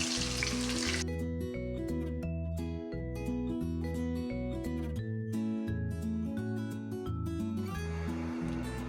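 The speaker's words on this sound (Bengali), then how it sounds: "আমার পেঁয়াজটা ভাজা হয়ে গেছে" Chopped onion fries in hot oil with a steady hiss, clearest at the start and end and largely buried under loud tonal background music.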